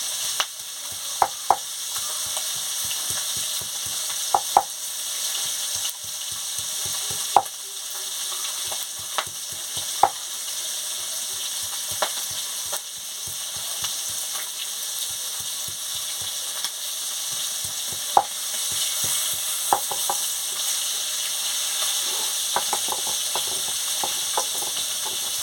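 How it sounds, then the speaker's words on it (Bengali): Fish heads frying in a pan for a cabbage curry, a constant close sizzle with scattered sharp pops and spatters throughout, no voices. "দেখি আর মাছের মাথাটা ভেজে নিচ্ছি।"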